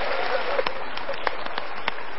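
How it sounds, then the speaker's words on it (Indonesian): A studio audience claps for a guest on an Indonesian motivational talk show, steady dense applause with a few sharper individual claps standing out throughout the brief stretch. "Yuk kita berikan tepuk tangan lagi untuk tamu kita"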